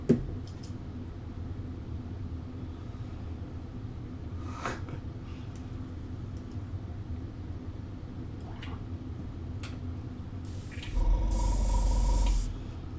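An airbrush spraying base coats lets out brief faint hisses early on, then a loud steady burst of spray near the end, close by against a quiet room.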